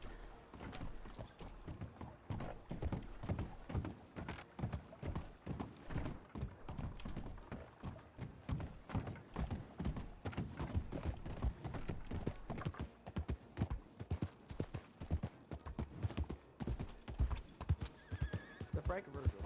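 Horse hooves clip-clop in a steady, busy rhythm with neighs and whinnies, inside the western roleplay game RedM, loud and close beneath ongoing talk.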